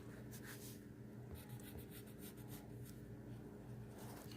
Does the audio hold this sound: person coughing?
no